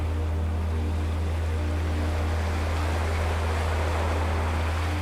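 Ocean waves break steadily on the shore as a continuous, even wash of surf under a low rumble, with no voices.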